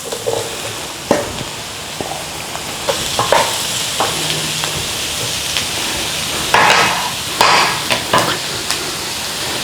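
Mushrooms hiss and sizzle in a hot pan with onions and garlic for a creamy mushroom pasta, while a spoon scrapes and stirs in irregular bursts, close and fairly loud.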